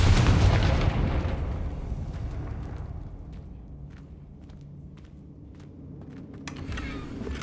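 A Confringo blasting spell in Hogwarts Legacy bursts in a loud boom that fades into a long rumbling decay, followed by scattered small clicks and crackles.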